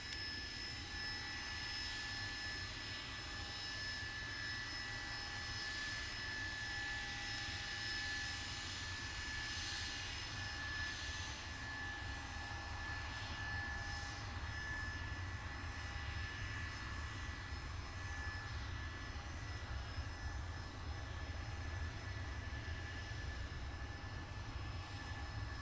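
Blackburn Buccaneer jet on a fast taxi run at Cotswold Airport, a steady, sustained engine roar with high whining tones held throughout, heard from a distance with no talking.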